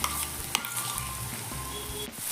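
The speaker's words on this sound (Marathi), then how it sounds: "वाटण केलेलं चांगलं भाजून घ्यायचे" Ground spice paste with garlic fries in oil over softened onion for a traditional Maharashtrian pithla, giving a steady close sizzle broken by stirring scrapes and light clatter, with no talk.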